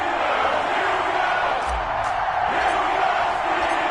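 Stadium crowd roars in an EA Sports NFL game for a Baltimore Ravens versus Pittsburgh Steelers matchup, a broad, steady, loud wash of cheering with a commentator's voice over it.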